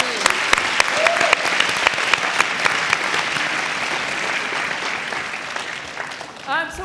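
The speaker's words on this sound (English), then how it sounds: "How about one more round of applause for all of the teams?" Audience at a university entrepreneurship competition final, applauding all the teams with loud, dense clapping, some sharp individual claps at the start, the applause tapering off near the end as a voice briefly starts.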